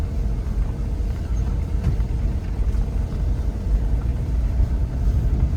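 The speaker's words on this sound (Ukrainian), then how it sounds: "По ямкам ось їду. Ось зараз буде велика яма. Ось колодка підскрипує." A Renault Megane with new suspension rolls over potholed road, heard inside as a loud low rumble of tyres and body with thuds, no distinct brake squeak, no talking.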